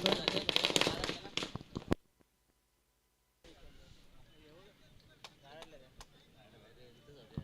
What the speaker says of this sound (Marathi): फटाक्यांच्या आतिषबाजीमध्ये स्वागत केलं जात आहे